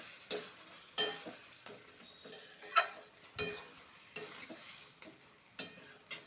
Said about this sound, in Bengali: মশলার সাথে ভাজা হয়ে গেছে বন্ধুরা